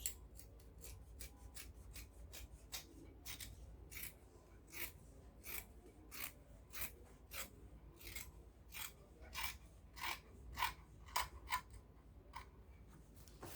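Scissors snip through ankara fabric while notching the centre of a neckline, a steady run of crisp, close cuts, quiet at first and growing louder, with no talking.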